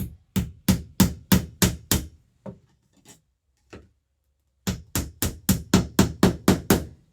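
Hammer blows drive a nail for a no-stud TV mount into drywall: a rapid run of about seven sharp, loud strikes, a pause with a few lighter taps, then another quick burst of about nine strikes.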